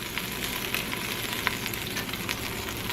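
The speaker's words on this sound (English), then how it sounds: "We're going to add just a little bit more olive oil." Olive oil sizzling in a hot pan on a stovetop at medium heat, a steady close crackle with small scattered pops and no speech.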